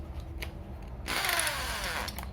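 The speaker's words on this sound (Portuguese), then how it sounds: "vou ligar a furadeira" An electric drill spinning a Singer 15C sewing machine part against 600-grit sandpaper, a whirring hum that starts abruptly partway through and runs steadily at moderate level, close by.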